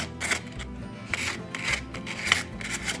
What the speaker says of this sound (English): I just wanna kinda give it a little worn type look with the sandpaper.